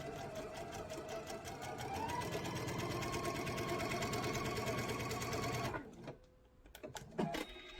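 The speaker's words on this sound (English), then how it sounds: "I'm going to sew that diagonal line" Sewing machine stitching a diagonal line across fabric for a table runner, a steady close rapid rattle lasting several seconds and then stopping, followed by a few faint handling clicks.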